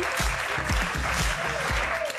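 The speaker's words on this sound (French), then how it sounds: "interview du biographe d'Alain Delon, Bernard Violet, qu'on applaudit" Audience applause at a French television talk show, a dense burst of clapping from a studio crowd, steady and fairly loud throughout with a few louder claps standing out near the mic.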